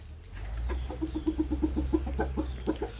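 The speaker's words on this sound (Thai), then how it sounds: "ดูไก่หนุ่มในล็อกชำ" Young Burmese roosters cluck in a quick, steady series of short notes from a pen over a low background rumble, close by and moderately loud.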